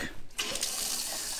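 A bathroom vanity faucet in a new Las Vegas townhome runs with a steady hissing rush of water after a brief handle click, close and continuous.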